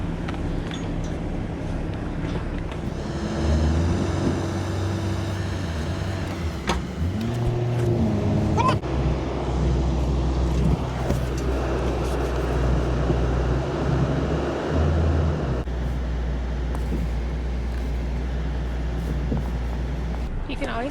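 A car is driven onto a car hauler trailer hitched to a Dodge Ram, its engine droning low and steady with clanks and shifts in pitch as it climbs, while people talk over it.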